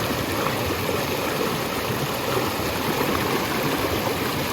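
Water streams steadily over a small wheel-and-axle model in a classroom demonstration, with a close, continuous rushing and gurgling flow and no talking.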